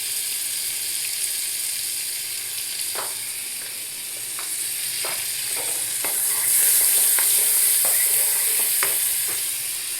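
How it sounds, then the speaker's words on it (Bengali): Butter and ghee melting over a gas flame in a pan for yakhni paneer, producing a loud, continuous hissing sizzle with soft stirring clicks scattered through it and no voices. "এর মধ্যে দেবো আমি এক টুকরো 1 পিস এই বাটার,"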